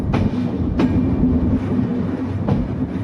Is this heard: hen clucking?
no